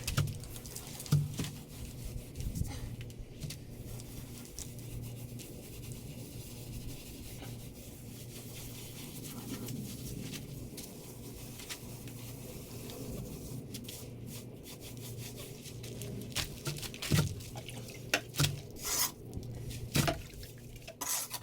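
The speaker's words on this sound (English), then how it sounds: "I just try to rub the stucco around in a circle" A wet sponge rubs stucco in circles over a faux rock surface, producing a low, continuous scrubbing and rubbing with a few sharper taps and drips, quiet and close.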